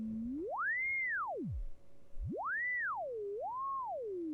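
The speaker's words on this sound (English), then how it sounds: "We have a sine wave." A pure sine-wave tone from a modular synthesizer in SynthVR, a virtual reality synth, glides smoothly up and down in pitch across several sweeping arcs with a brief gap in between. It is clean and heard alone.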